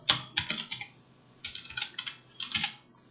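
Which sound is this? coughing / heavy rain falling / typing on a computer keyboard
typing on a computer keyboard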